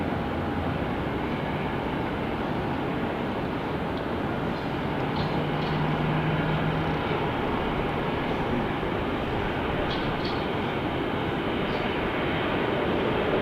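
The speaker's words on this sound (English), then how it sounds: "Here's our MAX 8 from Sarasota, Florida." Boeing 737 MAX 8 airliner at an airport, a steady broadband engine roar that holds loud and even for the whole stretch, without talk.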